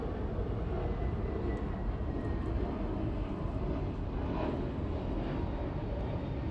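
A Delta Airbus A321neo taking off at Los Angeles International Airport makes a steady, broad, distant jet roar that stays even throughout, with no voices.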